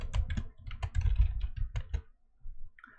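Bursts of typing on a computer keyboard, close and crisp, with uneven clusters of key clicks and a short pause near the end.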